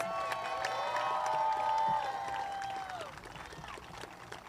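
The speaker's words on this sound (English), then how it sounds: "Please join me in giving these students a round of applause." Audience applause at a 2022 KIPP King high school graduation ceremony for students graduating with honors, a dense continuous wash of clapping and some cheering that swells for about two seconds and then fades out.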